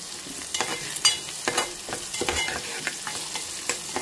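Onions sizzle in hot oil in a pan for potato curry, with repeated scraping and clattering stirring strokes heard close up over the steady frying hiss.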